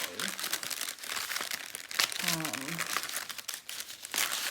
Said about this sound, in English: these will peel off of the parchment paper. That's probably really loud.